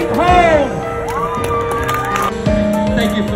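A fun, friendly audience cheers, whoops and shouts with some clapping, a lively burst of crowd noise mixed with loud voices.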